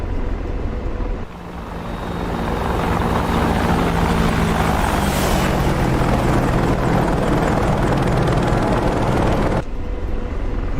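AH-64D Apache attack helicopter in DCS World sweeping past on a flyby, with a loud, steady rotor and turbine roar that swells mid-pass and stays strong for about eight seconds before cutting off.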